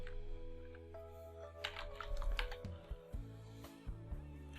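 Computer keyboard keys are pressed in short, quiet clicks and taps while entering Windows command-prompt commands, irregular and close over a faint hum.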